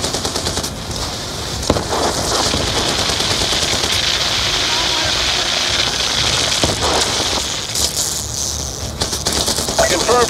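Heavy automatic gunfire from the Call of Duty Black Ops 2 video game, dense continuous bursts with explosions, loud and close throughout, over a convoy firefight with a mountain RPG position.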